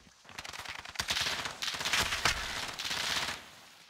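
Video game gunfire rattles off in rapid automatic bursts, dense and close, building over several seconds before cutting off.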